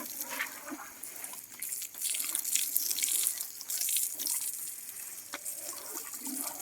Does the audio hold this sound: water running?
yes